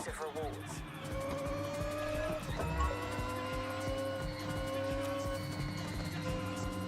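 A car racing in Forza Horizon, a steady engine drone with rising and falling gear tones and a short tyre squeal, with a voice talking over it.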